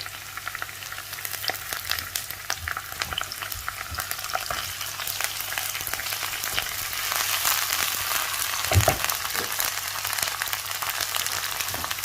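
Ginger and garlic paste frying in a hot pan for a radish curry, a steady, close sizzle and crackle with occasional stirring scrapes, continuous throughout with no talking.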